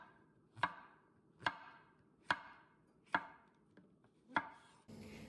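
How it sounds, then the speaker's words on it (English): A knife slices mushrooms into half to one centimetre thick pieces, giving six crisp, evenly spaced chops close by. Nobody speaks, and a brief rustle follows at the end. "And now we're going to do the mushrooms. Just cut them in slices"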